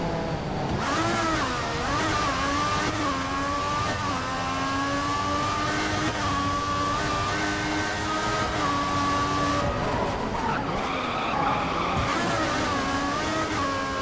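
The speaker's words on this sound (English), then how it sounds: "You can hear the rest of the cars going down" Formula 1 cars in the F1 2014 racing game at Monaco give a continuous high engine whine that rises and dips in pitch as they accelerate and shift, with other cars droning in the background.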